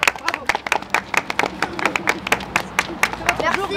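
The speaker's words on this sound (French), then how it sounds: "Oui, alors on vous applaudit." Audience at a community gathering in Berchem claps in a brisk, uneven burst of individual hand claps, close and steady for several seconds.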